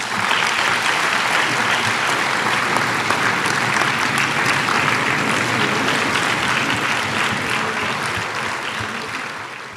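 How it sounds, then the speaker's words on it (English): Sustained, dense audience applause fills a keynote event hall, a large crowd clapping steadily and loudly throughout before it begins to taper slightly at the end, with no talking over it. "I would ask you to rise and give a resounding applause to this great couple"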